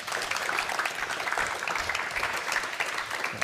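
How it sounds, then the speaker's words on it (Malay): Audience applause at a Malaysian finance talk show taping, a dense, steady patter of many hands clapping throughout, fairly close and uninterrupted, with no talk over it. "Mari kita berikan tepukan untuk Irfan Khairi."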